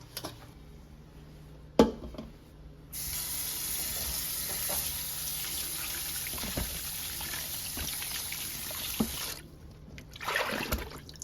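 Running water pours and splashes steadily for several seconds, with soft knocks and clatter of items being rinsed, preceded by a sharp thud.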